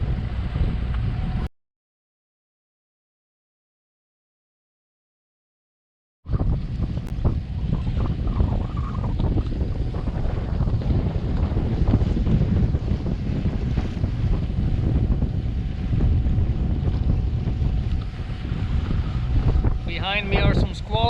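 A sailboat motors solo across the Mediterranean from Cartagena, Spain. A steady engine-and-wind rumble mixes with rushing water and wave noise. The sound cuts out briefly to silence early on, then resumes at an even, loud level.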